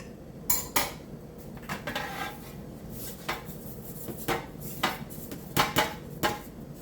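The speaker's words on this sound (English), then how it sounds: "we'll take this and grease the pan" A metal biscuit pan is being greased, with repeated clinks, scrapes and knocks of utensils against it. The hits come in an irregular rhythm, close and fairly loud, and no one speaks.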